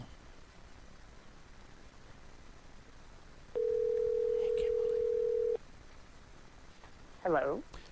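A steady telephone dial tone holds for about two seconds over faint background hiss, followed near the end by a short, warbling burst of dialing or ringing tones.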